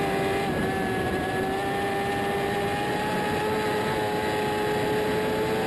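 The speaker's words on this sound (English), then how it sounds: "let's show you what it looks like to ride a Superbike around NJMP" An AMA Superbike races around New Jersey Motorsports Park, a loud sustained high-pitched engine scream that holds steady and climbs slightly in pitch, heard from on the bike with constant wind and road roar.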